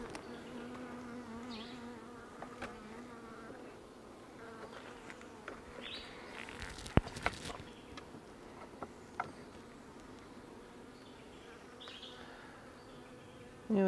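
Honeybees buzz continuously around a hive, a dense droning hum with individual insects passing close, plus a few soft clicks and knocks.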